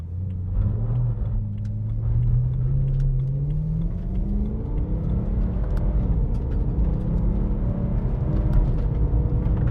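BMW E92 M3 GTS, one of nine built, with Cup 2 tyres, its engine droning loudly and steadily from inside the cabin as it pulls away and revs climb gradually.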